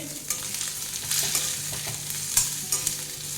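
Bitter gourd fries over medium-low heat in a pan, giving a dense, close, continuous sizzle and hiss broken by soft stirring scrapes.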